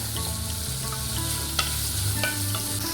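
Chopped onion sautés in a pan with a continuous close sizzle and light stirring scrapes, with no talking.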